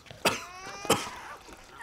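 A person coughs twice in quick succession, a pair of sharp, close bursts with a throat-clearing quality, followed by quiet breathing and room noise.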